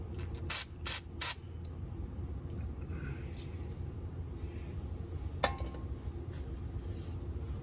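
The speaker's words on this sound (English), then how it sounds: "spray that stuff down" Aerosol cleaner sprayed onto a car's brake pad bracket: three short, hissing bursts close up near the start, then a low workshop rumble with faint metallic clinks and one sharp tap.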